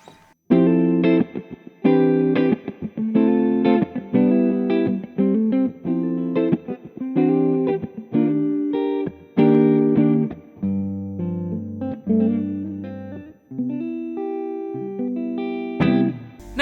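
Distorted electric guitar playing chunky chords and short riffs through a NUX Solid Studio MK2 amp simulator pedal, loud and steady with a brief pause near the end.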